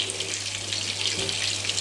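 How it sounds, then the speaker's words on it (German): Steady bubbling and hissing of water at a rolling boil for cooking pelmeni, close and continuous, with a low hum beneath and no voices. "So, das Wasser kocht jetzt,"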